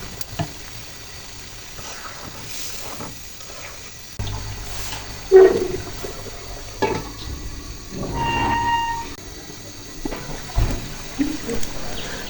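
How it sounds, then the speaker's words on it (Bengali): Water poured into a pan of boal fish curry in tomato paste sets off a rushing gush and bubbling sizzle, with intermittent clanks of the pan and no speech. "পানি দিয়ে নিলাম"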